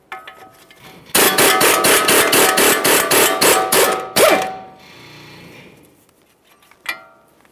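A hammer strikes a rapid, even series of about a dozen loud metallic clangs while tapping bolts out of a steering knuckle on a 2013-2020 Ford Fusion front hub, followed by quieter shuffling and a final knock.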